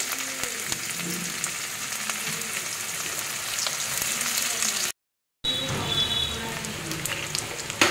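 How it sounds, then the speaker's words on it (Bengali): Chopped onion, bay leaf, dried chili and cumin seeds frying in hot oil in a home kitchen, a steady broadband sizzle with a brief dropout partway through, no talking. "তেজপাতা, শুকনো লঙ্কা ফোড়ন দিয়ে দিলাম, গোটা জিরে ফোড়ন, পেঁয়াজ কুচি দিয়ে দিলাম তেলের উপরে"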